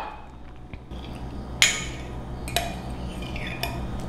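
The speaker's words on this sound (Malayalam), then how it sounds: "നന്നായിട്ട് സ്മാഷ് ചെയ്യണേ" Lime and pineapple slices being smashed for a mojito, probably in a glass: a few sharp clinks and knocks over a low, steady hum, with no speech.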